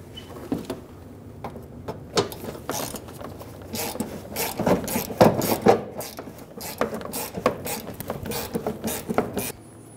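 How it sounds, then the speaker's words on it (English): A ratchet with a 10mm socket loosening bumper cover bolts on a 2000-2007 Ford Focus, bursts of rapid metallic clicking with short pauses between, close and loud with no talking. "Using a 10mm socket, we're gonna remove the two bolts on the passenger side."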